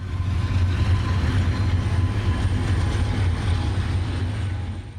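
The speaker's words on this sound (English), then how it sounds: "The train of auto and mixed freight cars with the Southern Pacific locomotive is continuing south." A freight train of auto racks and mixed cars hauled by a Southern Pacific locomotive on the CSX line between Chattanooga and Nashville rolls by, a steady low rumble and wheel roar from fairly close, with no voices.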